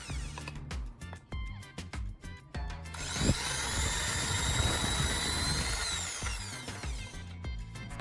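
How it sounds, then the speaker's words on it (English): A power drill bores into a wooden handle, first in short stuttering bursts, then in one long steady whine of several seconds before stopping and starting again in brief pulses; loud and close with no talking. "I'm going to drill 2 specific holes into the wider end of this handle and 1 smaller hole near the tapered end"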